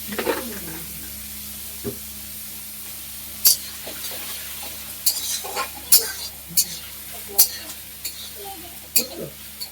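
Onion frying in oil in a pan for Bengali-style ghugni, a low steady sizzle under scattered bright clinks and scrapes of a utensil against the pan, with a voice speaking briefly.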